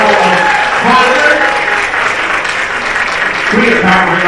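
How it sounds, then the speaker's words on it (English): A crowd at a beach fundraiser party for an animal shelter applauds sponsors in a continuous, loud wash of clapping, with voices mixed in throughout. "Big round of applause for that level of sponsor"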